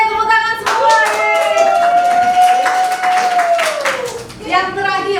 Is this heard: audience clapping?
yes